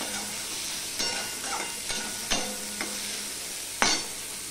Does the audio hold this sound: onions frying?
yes